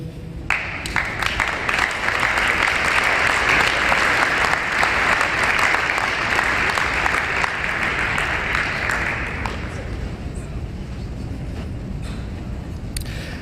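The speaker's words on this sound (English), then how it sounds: "one more round of applause for all of our signees today" An audience applauds athletes at a high school signing day indoors, a dense sustained burst of clapping that swells for about nine seconds, then fades into room murmur with a few stray claps.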